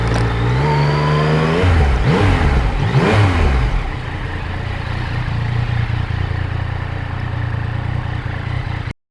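A Yamaha MT-09 motorcycle engine runs loud and close, rising and falling through a few quick revs before settling into a steady, rumbling idle.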